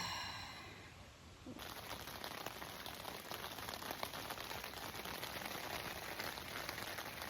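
Rain falling on a campsite along the Bruce Trail, a steady soft patter of drops with a brief quieter rustle at the start, continuous and fairly close.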